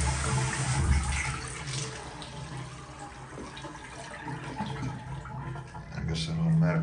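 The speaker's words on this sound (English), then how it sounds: "the shower head works really well" Water from a hotel room shower head runs in a steady, fairly loud hiss and splash, with a person's voice faintly audible under the flow.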